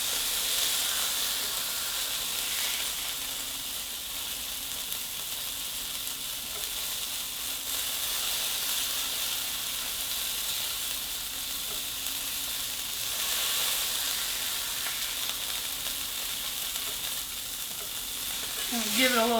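Smash burger patty frying in a pan, pressed flat with a spoon, giving a steady close sizzle and hiss that runs throughout without talk.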